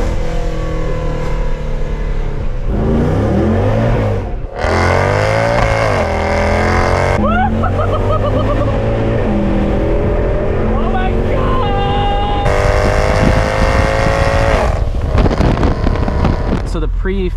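A pre-facelift Mercedes C63 AMG W204 with traction control fully off, rolling into hard acceleration, its engine climbing loudly through several gear changes with falling and rising pitch, over wind buffeting and occasional talk inside the car.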